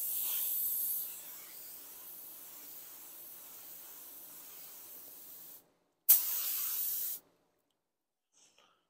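Spray gun laying a first white coat of paint on a tumbler, a steady hiss that fades after a second, then a brief sharper burst of spray before silence.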